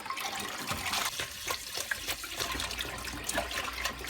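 Dirty, dust-blackened water being rinsed out of a Henry vacuum cleaner filter under running water, a steady close splashing and gushing flow with irregular squelches throughout.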